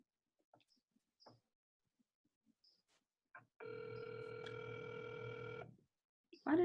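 A telephone rings once in a long steady electronic tone on a conference call line, nearly two seconds of sustained ring after a few faint clicks and near-silence, cut off with no voicemail picking up.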